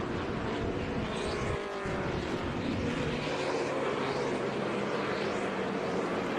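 Trans Am TA2 race cars howl past on the track at Sebring, a steady distant roar of several engines blending together with no speech.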